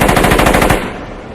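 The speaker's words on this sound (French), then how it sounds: "Il peut aller jusqu'à 7 images par seconde, quand même, hein, donc c'est une belle mitraillette." A Canon EOS 80D shutter firing a rapid burst at seven frames per second, a fast mechanical clatter of repeated clicks lasting under a second, close and loud, then fading out.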